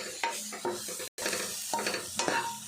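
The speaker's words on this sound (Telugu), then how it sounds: "కారం, కొంచెం పసుపు వేసుకొని ఇట్లా మంచిగా వేయించుకోవాలి." Soya chunks stirred and frying in oil in a pan with chili powder and turmeric, a steady sizzle broken by repeated scraping strokes of a spoon, close and fairly quiet.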